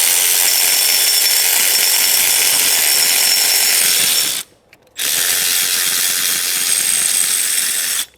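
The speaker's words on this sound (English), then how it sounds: "You can put the wrench in and then trace it around until you find where it is." Ratchet wrench clicking rapidly as it turns a bolt on the power steering pump of a Holden Commodore's 5.7L LS1 V8, loud and close, with a short pause partway before the steady ratcheting resumes.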